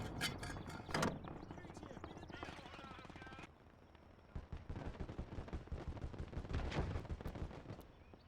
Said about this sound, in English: Again, mortar.